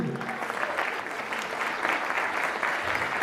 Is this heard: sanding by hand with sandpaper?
no